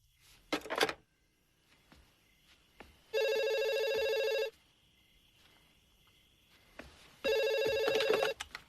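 A landline telephone rings in two long electronic bursts of about a second and a half each, separated by a quiet pause, loud and close in a tense horror-film scene, with faint rustling between rings.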